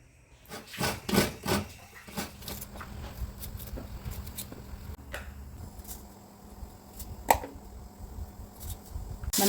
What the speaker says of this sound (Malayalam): ഇതിൽ അരമുറി തേങ്ങ നമുക്ക് തിരുമ്മിയെടുക്കാം.